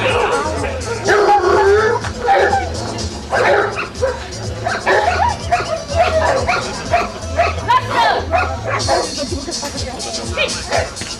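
A dog barks repeatedly in loud, rapid bursts during an attack training demonstration in Bulgaria, with whimpers and yips mixed in over a crowd's background murmur.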